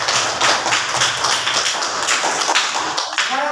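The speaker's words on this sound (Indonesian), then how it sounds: "Beri aplaus untuk kelompok 2." A classroom audience applauds a student group after their presentation, a dense, steady patter of many hands clapping close by with no pause through the whole stretch.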